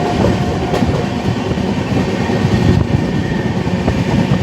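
An Indian Railways train passes close by on the route from Kanpur toward Fatehpur, with a loud continuous rumble and a steady clickety-clack of the wheels over the rail joints throughout.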